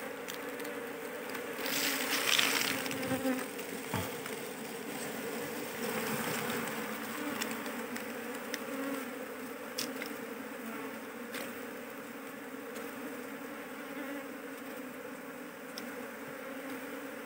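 Honey bees swarm around a heavy hanging honeycomb of soft new wax behind a school, a steady dense buzzing hum that carries on unbroken, close and fairly quiet.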